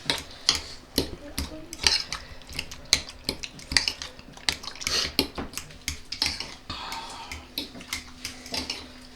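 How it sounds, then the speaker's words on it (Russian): A spoon stirring a rice mixture in a bowl for sushi cake, with rapid repeated clinks and scrapes against the bowl, close and fairly loud, with no talk. "И перемешиваю."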